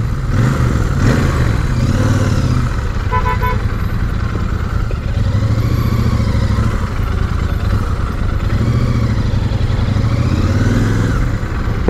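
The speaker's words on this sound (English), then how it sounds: "Revving it in stop go traffic." A Super Meteor 650 motorcycle revving in stop-and-go city traffic, its engine loud and close, rising and falling in repeated revs over a continuous engine drone with some clatter throughout.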